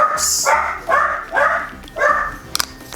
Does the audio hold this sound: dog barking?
yes